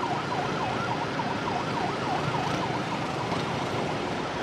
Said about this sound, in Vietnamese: Xe cứu thương